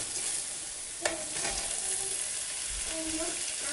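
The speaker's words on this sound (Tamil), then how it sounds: "இப்போ காடை சேர்த்ததுக்கு அப்புறமா அப்படியே மேல விட்டுமா பிரட்டி விட்டுக்கோங்க." Quail pieces frying in a pan while being stirred, a soft continuous sizzle with a few scraping stir strokes, fairly quiet and close.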